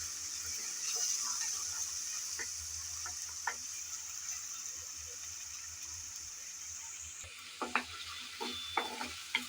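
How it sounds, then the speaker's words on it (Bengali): Onions sizzle steadily in a pan with ginger garlic paste, a continuous frying hiss broken by the scrape and clack of a spoon stirring, louder in short bursts toward the end. "এখন আবারও নেড়ে চেড়ে ভালোভাবে পেঁয়াজের সাথে কষিয়ে নিতে হবে, যাতে আদা রসুনের কাঁচা গন্ধটা চলে যায়।"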